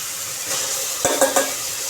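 Tomatoes stirred into sizzling oil with ginger-garlic paste for mutton curry, a steady frying hiss broken by a few sharp clinks of a utensil against the pan, close up.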